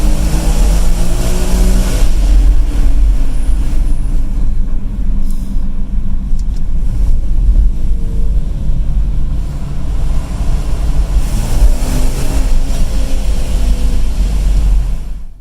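A 2012 Infiniti FX35 SUV accelerating on the road, a loud continuous low engine and road drone rising and holding steady under no speech.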